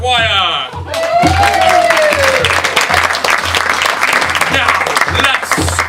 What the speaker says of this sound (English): Give a falsely encouraging applause for Lucinda Quaffalot Esquire.